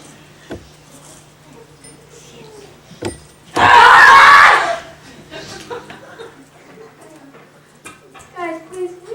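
A short burst of loud, shrill yelling from several young children, erupting amid quieter chatter and laughter at a church Christmas program, then fading back to background talk.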